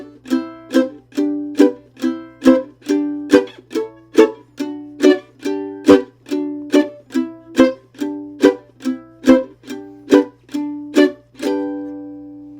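Chords of the bluegrass tune Blackberry Blossom are played through on a single string instrument, each strum ringing out in an even rhythm, close and clear, with the final chord left to fade.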